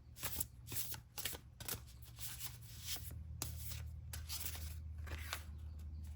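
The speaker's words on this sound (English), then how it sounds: "Let's draw one more card." Tarot cards are shuffled and riffled close up, with repeated soft flicks and slides of card stock over a low steady hum, faint and without talk.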